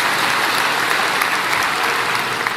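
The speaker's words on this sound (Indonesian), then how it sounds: "Berikan tepuk tangan kita untuk dia." A church congregation applauding during a sermon, a dense, steady wash of many hands clapping at once, loud and sustained throughout.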